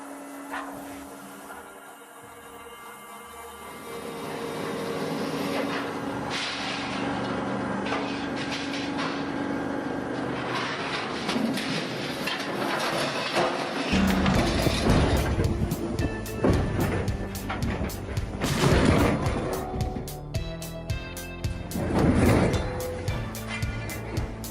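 An industrial vertical shredder, Squalo 3000 type, tearing through cars and high-density metal, loud and continuous, with heavy grinding and crashing bursts that grow harsher and more impactful partway through.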